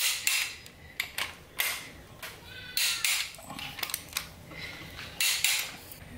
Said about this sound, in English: I'll go through and tighten up the other inner 13mm bolts